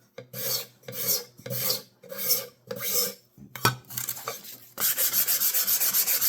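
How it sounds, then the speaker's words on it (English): A wooden desktop organizer is sanded by hand in steady back-and-forth strokes, about six rhythmic rasping passes, then a brief clatter and a faster run of shorter scrubbing strokes, all loud and close with no talk. "And right now I keep going back to the sanding"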